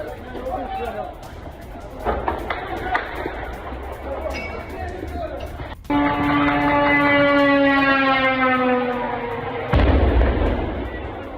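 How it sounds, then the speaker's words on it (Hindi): A couple of sharp, heavy booms from an explosion after a drone attack cut through the scene while a siren wails in rising, sustained tones and people shout in the background. "ड्रोन अटैक के बाद जोरदार धमाका हुआ।"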